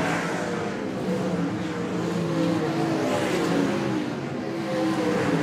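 Race car engine in a War of the Wings feature race at Cromwell, a loud continuous roar with a steady mid-range drone and slight rises and falls, no talk.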